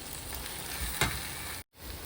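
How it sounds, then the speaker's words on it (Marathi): Turmeric, coriander powder and garam masala sauté in a pan for sev bhaji, making a faint, even sizzle with a single scrape of a stirring spoon partway through. "हल्दी पावडर घालू धनिया पावडर आणि गरम मसाला आता पण छान परतवून घेते"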